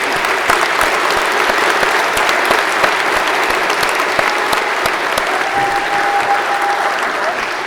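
Loud, sustained audience applause for a group of students at a high school senior awards ceremony, dense clapping throughout with faint voices mixed in.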